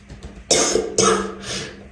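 Three harsh coughs from a person with a sore, burning throat, loud and close, evenly spaced about half a second apart, with nothing else heard.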